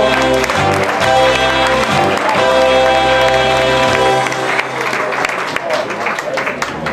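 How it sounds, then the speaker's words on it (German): A carnival audience at a 2007 German Karneval event applauds. The clapping is dense and sustained across the whole stretch, with music or voices faintly mixed underneath. "ein besonderer Applaus."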